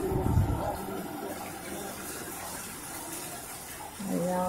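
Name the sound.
floodwater around the house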